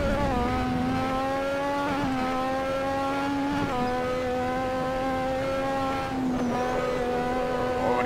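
Lotus 98T race car engine on Spa Francorchamps in Assetto Corsa, a loud, high-pitched whine climbing through the revs, dropping sharply at several gear shifts, with no voices.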